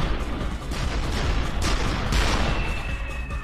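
Cannon fire in the Soul Eater anime, a rolling barrage of heavy booms layered densely over one another, loud and continuous across the whole stretch with no voices.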